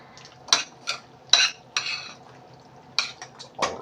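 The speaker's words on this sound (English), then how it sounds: "put the sauce in with the pasta, and I'll save just a little bit of it. Give that a stir." Pasta being stirred with sauce in a pot for a baked pasta dish, utensil scraping and clinking against the metal in several irregular strokes, close and moderately loud with no talk.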